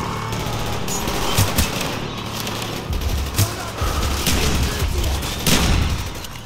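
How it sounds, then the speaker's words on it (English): Shotgun gunfire in Black Ops 1, with several loud blasts and booms scattered over steady game noise, fired at close range. "Let me get the shotgun out."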